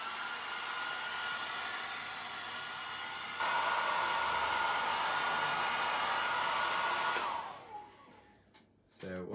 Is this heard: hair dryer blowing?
yes